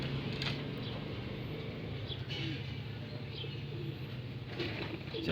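Pigeons in a racing loft coo softly amid steady low background rumble, with occasional faint wing flutters and chirps, no voices.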